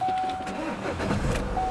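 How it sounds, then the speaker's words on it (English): A Vauxhall Insignia VX Line engine cranks and catches, rising into a steady idle heard close up from inside the cabin, with a chime sounding at the start and end. "I'll just start the car."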